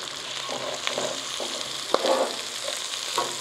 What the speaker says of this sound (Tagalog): So, 1 part ng sibuyas, half part ng carrots, at half part ng celery. So, gigisahin lang natin to hanggang maging malambot.